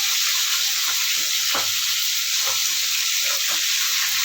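Hilsa fish pieces frying in hot oil, a steady bright sizzle throughout with a few soft knocks and scrapes as the pieces are turned in the pan; no talking.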